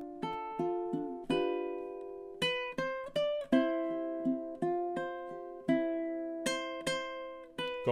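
A ukulele plays measures 5 to 8 of the Celtic tune Carrickfergus fingerstyle, with clear plucked notes and ringing chords in a slow, lilting rhythm, close and alone.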